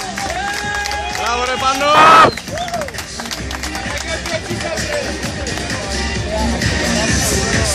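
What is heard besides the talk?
crowd applauding at an armwrestling competition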